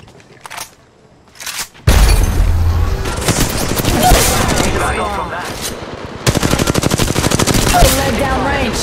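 Loud, rapid automatic gunfire from a video game shooter rattles in long continuous bursts, with a brief pause and then another sustained stream of shots, close and dominant throughout.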